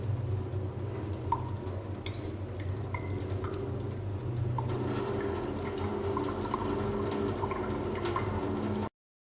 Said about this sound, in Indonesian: Setelah 5 menit kita cuci di bawah air mengalir